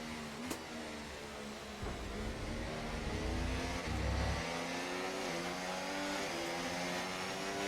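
A Formula 1 car's engine in the F1 24 racing game, running wheel to wheel in the rain, drones loudly and steadily, with its pitch gently shifting as it revs and no voices heard.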